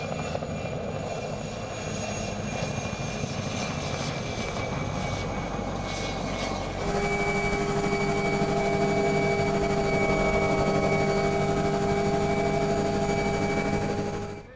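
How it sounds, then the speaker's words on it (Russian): A helicopter of Abkhaz Airlines flies low over hazelnut plantations while spraying them, its rotor and engine droning loud and continuous throughout, with the turbine whine growing stronger and steadier midway through. "Вертолет абхазских авиалиний 2 раза в день при хороших погодных условиях производит вылет и опрыскивание"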